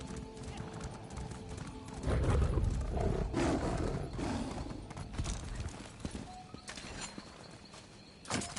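Hooves clip-clopping from a horse in The Elder Scrolls Online video game, a rhythmic run of hoofbeats that swells then fades, with a neigh and game ambience mixed in.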